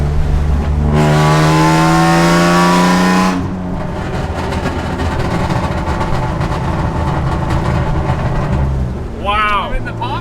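Straight-piped BMW E36 with an M52 engine running nearby, a loud rising rev, then a rough, burbling idle with crackling pops, and voices talking over it.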